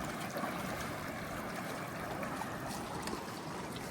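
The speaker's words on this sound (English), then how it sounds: "This is creek crossing number 3. A little more shallow than the last 2" Shallow creek water flowing steadily over rocks at a trail crossing near John Neal Falls, North Carolina, a continuous broad wash heard up close with no talk.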